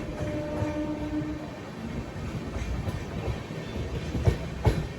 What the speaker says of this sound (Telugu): ఇందాక నుంచి ఎదురు చూస్తున్న రాయచూర్ జంక్షన్కి అయితే బండి వచ్చింది